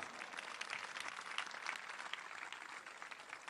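A crowd at a political rally in Rosario breaks into sustained applause, a dense, even wash of clapping that holds for several seconds without any voices rising above it.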